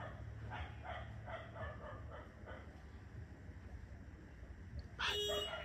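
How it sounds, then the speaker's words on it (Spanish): Several dogs bark in a neighbourhood, with a string of moderate, somewhat distant barks early on and then a louder, closer bark near the end, and no talk. "Y estos perros, hijos del diablo,"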